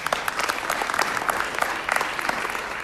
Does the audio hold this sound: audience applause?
yes